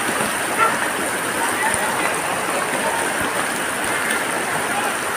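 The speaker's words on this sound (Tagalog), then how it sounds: "Malakas din ang agos ng drainage." Floodwater rushes through a drainage channel during flooding in San Isidro, Montalban, Rizal: a steady, continuous roar, a broad even wash of sound like a strong flood current, with no pauses.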